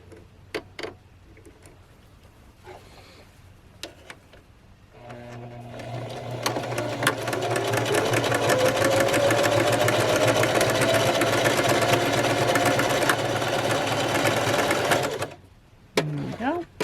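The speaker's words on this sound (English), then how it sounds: "we're going to do a zigzag stitch." Sewing machine running a small zigzag stitch to form a buttonhole, starting after a few brief clicks and humming steadily for about ten seconds close up before stopping, with a voice talking before and after.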